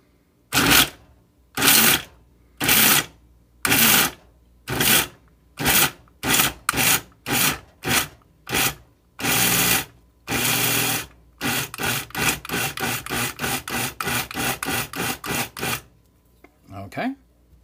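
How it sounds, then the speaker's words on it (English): A blender does a fast blend while a simple healthy kosher vegetarian dish is made. It runs in loud, gritty bursts, short at first, then longer, with quick pulses near the end and pauses between them. "Now it's going to make a little bit of a noise as I do a fast blend."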